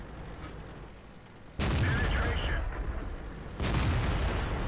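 Two loud, sharp cannon blasts from tanks firing in World of Tanks, each followed by a sustained rumbling decay, sitting over a quieter low battlefield hum.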